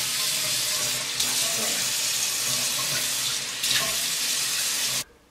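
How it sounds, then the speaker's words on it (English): Tap water runs steadily into a sink while lip scrub is rinsed off, a continuous close splashing rush that cuts off abruptly at the end. "So now I'm just gonna rinse it off."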